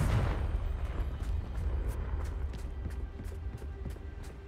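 Confringo fire spell explosion in Hogwarts Legacy: a heavy boom at the start that rumbles and fades, followed by faint rhythmic crackles.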